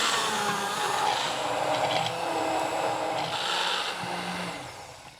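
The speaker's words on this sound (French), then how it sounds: "Et maintenant, il n'y a plus qu'à mixer." A blender whirs steadily, mixing a basil lime vinaigrette with olive brine and oil, a continuous close motor drone with slight shifts in pitch, fading slightly at the end.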